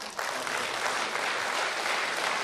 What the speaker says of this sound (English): I think we should applaud for